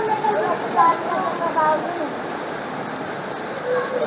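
Heavy monsoon rain falls during a habagat flood, a continuous broad hiss with splashing water, while faint voices sound in the background.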